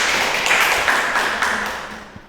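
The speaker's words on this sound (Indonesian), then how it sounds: "tepuk tangan dulu" A classroom audience giving a short burst of clapping, dense overlapping hand claps that fade out over about two seconds.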